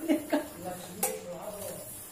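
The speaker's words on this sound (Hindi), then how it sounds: "दिन में मैं 3-4 बार बर्तन धो लेती हूँ।" Dishes, pots and pans being washed in a home kitchen, a few close metallic clinks and clatters scattered through the clip, with people talking in the background.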